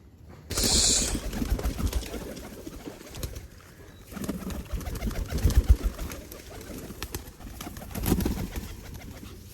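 Pigeons cooing in a loft at morning before release, several soft low coos in irregular bursts, close by, with brief faint rustling and no talk.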